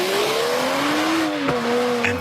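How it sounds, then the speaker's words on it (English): A new Mercedes-Benz car in an advert, engine pitch rising and then dipping as it drives past, with a brief sharp transient near the middle, steady and moderately loud with no speech. "This is the sound of a new Mercedes-Benz."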